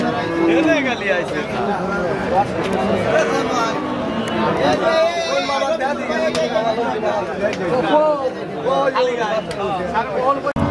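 Cows at a busy rural cattle market, with occasional lowing and animal noise beneath dense crowd chatter and someone talking throughout; the babble stays loud and continuous.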